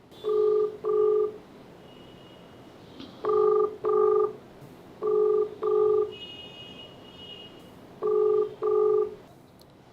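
An outgoing phone call rings back in regular paired tones, four double rings evenly spaced with short silences between, clear and alone.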